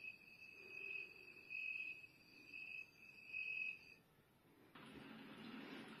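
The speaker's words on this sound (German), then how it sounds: "Das Grillenzirpen darf natürlich auch nicht fehlen zur Entspannung." Recorded cricket chirping played through a small dinosaur egg night light projector speaker: faint, repeated bursts of high, steady chirps over soft background hiss, giving way near the end to a wider watery rush.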